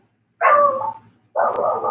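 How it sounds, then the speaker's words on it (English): A dog gives two short, close barks with a brief pause between them. The first is higher and yelping, the second lower and fuller, against an otherwise quiet room with no talk. "and then the dog barks"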